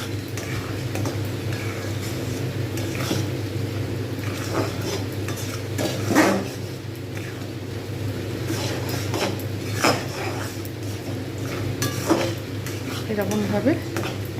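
Jaggery and fried rice stirred in a kadai for rice laddoos, steady scraping and occasional metallic knocks of a spoon over a low sizzling hum, with a voice talking at times.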